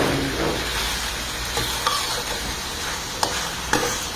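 Food stir-fried in a pan, a loud continuous sizzle with a few sharp clicks of a utensil scraping and tapping, no talk.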